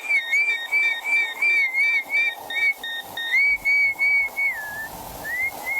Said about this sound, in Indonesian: berhenti bersiul